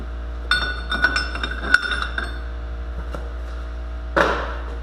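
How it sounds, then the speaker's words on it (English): Steel axle puller adapter fitted onto a Ford 8 or 9 inch differential axle flange, a few sharp metallic clinks and taps close by, with a louder scrape-clank near the end. "This is the axle puller adapter, part number 27032. You're going to put on the flange here."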